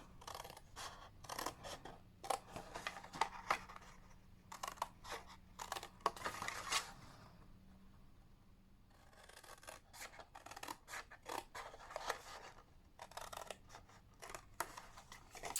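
Scissors snipping angled lines into cardstock tabs for a gift box, quiet bursts of crisp cutting strokes separated by short pauses, close and alone.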